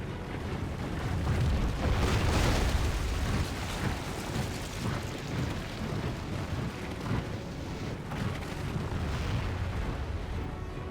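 Catapult shots and battle noise in the fantasy strategy game Total War: Third Age Reforged, a dense, continuous rumble of heavy booms and impacts with no clear gaps, loud throughout and swelling near the start.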